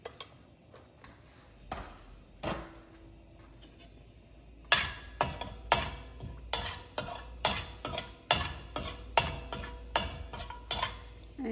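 Cumin and mustard seeds fry in hot oil, quiet at first, then a series of sharp, regular scraping and clinking strokes as a spoon stirs the pan, over a faint sizzle.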